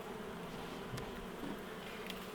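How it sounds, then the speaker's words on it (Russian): Honey bees buzzing on a beehive frame as a winter cluster forms, a dense continuous hum that stays steady and close throughout. "Вот такое количество пчел."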